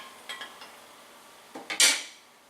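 A spoon stirs a large batch of kombucha starter in a container, giving a few light clinks and scrapes against the vessel followed by a brighter ringing knock, close and quiet.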